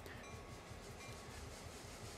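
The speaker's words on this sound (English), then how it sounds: "you can hear the brakes are releasing now because the pressure's coming up" Air brakes releasing on a GP38-2 diesel locomotive's train in Train Sim World 2, heard as a steady, loud broadband hiss of air with low rumble beneath, continuous for about two seconds with no talking.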